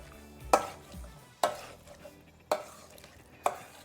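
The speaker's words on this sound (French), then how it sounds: "Donc là, on écrase bien le brocoli" Cooked broccoli being mashed in a pan with melted Cantal cheese, four sharp scraping thuds of a utensil against the pan at roughly one-second intervals, close and clear with no talk.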